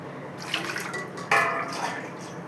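Water splashes and drips during washing in a home kitchen, mixed with soft clinks of dishes. The sound is fairly quiet and close, with a brief louder gush midway.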